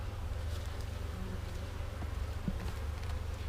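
Honey bees in an opened hive box during a Varroa treatment inspection, giving a continuous, dense droning hum with a low rumble and occasional small knocks; no one speaks.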